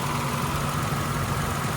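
A 1988 Chevrolet Camaro IROC-Z with a five-speed and its original engine idles smoothly and steadily, a close, even rumble with no other sounds.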